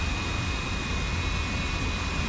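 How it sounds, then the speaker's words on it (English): An F-86F Sabre jet engine tries to relight during an in-flight emergency restart in DCS World, a steady broadband roar with a thin whine running through it, constant and fairly loud. "We can hear the engine starting to catch, or trying to catch at least."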